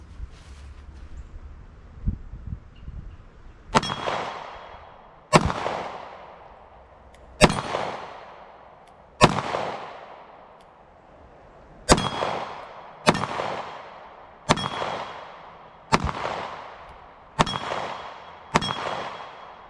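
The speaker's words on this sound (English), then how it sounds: "I'm going to shoot a few rounds so you can see how it does." A Springfield Hellcat pistol fires 115 grain rounds in a steady series of about nine sharp, loud shots, each cracking out and ringing off before the next, spaced a second or two apart with no talk.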